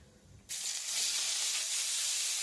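Chopped bottle gourd drops into hot oil tempered with cumin, dried chilli and bay leaf, bursting into a loud, steady sizzle that swells and holds after a quieter start.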